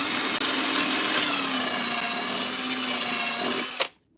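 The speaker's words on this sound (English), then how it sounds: "So I'm gonna drill a hole." A power drill bores a hole through a box, whining loud and close at a steady pitch for several seconds before cutting off abruptly near the end.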